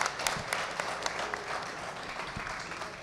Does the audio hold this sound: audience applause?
yes